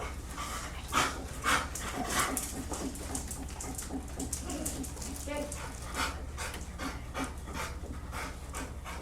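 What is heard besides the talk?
dog panting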